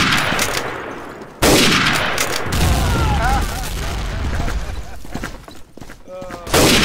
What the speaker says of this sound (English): Eat that grenade.